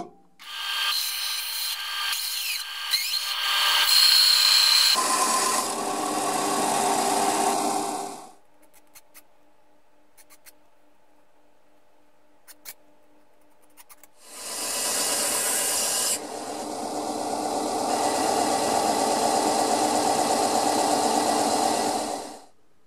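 A hacksaw cuts through a broken steel file being shaped into a carving knife, two bursts of steady rasping strokes, close and loud, separated by a quiet pause with faint clicks.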